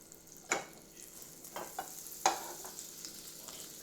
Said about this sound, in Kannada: ಈಗ ಇದೇ ಬಾಣಲೆಗೆ ಬಟರ್ ಹಾಕ್ತಾ ಇದ್ದೇನೆ